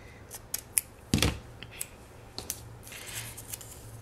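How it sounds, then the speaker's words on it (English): Scissors snip through a planner sticker along a printed grid line, a series of soft close clicks and one louder crunching cut, quiet and close with faint handling rustle between. "So I'm going to cut along this top grid that I see."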